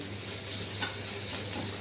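Onion paste fries in a little oil in a pan, giving a steady, close sizzle with a soft crackle that holds even throughout, with no talking.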